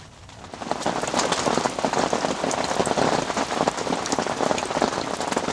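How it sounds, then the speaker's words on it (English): Heavy rain drums on a bivvy shelter, a loud dense patter of close drops that swells in after a quieter start and keeps up steadily with no voices. "It's rained all night, absolutely chucked it down."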